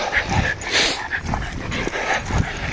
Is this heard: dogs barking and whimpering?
yes